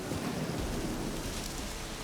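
Steady rain pours in The Witcher 3, a dense continuous hiss with a low rumbling undertone, even and unbroken throughout with no voices.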